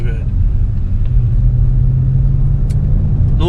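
A 2022 Jaguar F-Pace SVR on the move, its engine giving a loud, steady low rumble with road noise from inside the cabin, continuous and close for the whole stretch.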